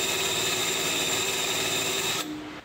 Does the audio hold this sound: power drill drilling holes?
yes